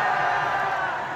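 A rally crowd of people in their thirties bursts into a brief, loud collective shout, overlapping voices merging into a steady roar that tapers a little as it ends.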